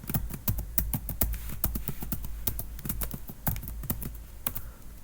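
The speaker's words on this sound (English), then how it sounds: "Now I'm typing my password" Password being typed on a computer keyboard while logging into a Linux machine: a steady run of sharp, close plastic key clicks in irregular rhythm, with no voices.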